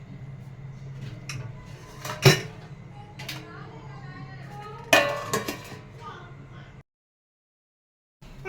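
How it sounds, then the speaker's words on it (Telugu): A metal lid set onto a cooking pot of simmering rajma curry, a couple of distinct clanks among smaller kitchen clatter, with a voice talking in the background before a sudden silence. "మనం మూత పెట్టేసుకుందాం"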